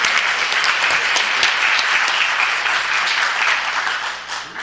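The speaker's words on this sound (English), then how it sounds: "let's give them a round of applause for all their contributions to our city." Audience applause at a city council meeting, dense steady clapping from a room of people, fairly loud and sustained before fading slightly at the end.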